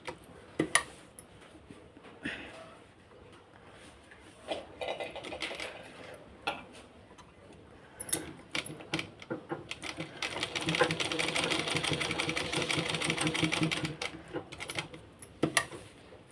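A sewing machine stitches hooks onto a blouse in short bursts of rapid, clattering needle strokes, with one longer steady run near the middle, close and moderately loud, with a voice in the background at times.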